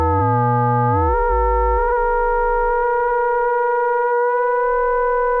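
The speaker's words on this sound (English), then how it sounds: "my modulator, is out of tune" A steady, bright and buzzy oscillator tone from a BRENSO oscillator with through-zero linear FM and an out-of-tune modulator, bending in pitch in the first seconds and then holding a sustained note.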